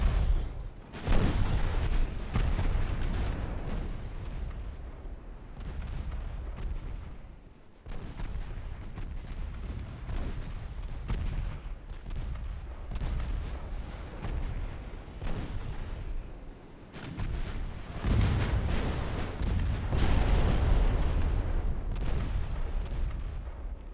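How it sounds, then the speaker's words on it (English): Battleship secondary guns fire at light cruisers in a 1904 naval battle game, a dense, continuous barrage of booming shots and rumbling blasts with no pauses and several heavier surges. "Battleships now engaging light cruisers with the secondary guns"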